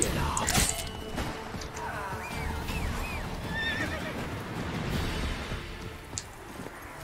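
The horse Roach from The Witcher 3 gives a loud, close whinny over a steady game ambience, with hoofbeats clopping underneath and a faint clatter near the end.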